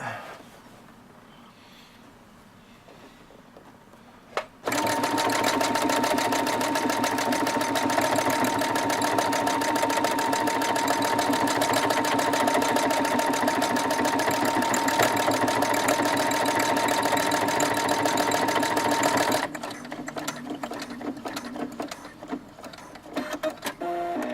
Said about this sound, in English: I'm going to sew 3 more of those and we'll call it a day